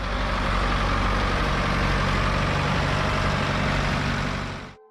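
A Ford 5000 diesel tractor engine idles with a loud, steady, close rumble that stays even throughout and cuts off abruptly at the end.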